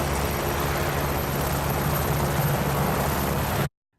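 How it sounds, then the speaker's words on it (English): A helicopter passes from left to right, a loud, steady rotor thump and engine roar filling the whole span before cutting off abruptly to silence near the end. "let's call it helicopter left to right"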